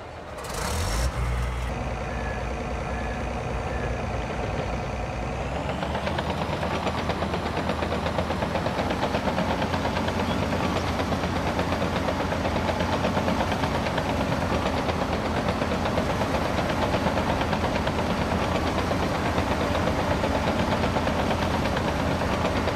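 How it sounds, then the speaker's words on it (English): Engines of a giant Volvo mining wheel loader and a haul truck on a Yukon mining map in a video game, a loud continuous diesel drone that swells briefly at the start and then holds steady throughout. "Now I can even use this Volvo here for loading that truck down there."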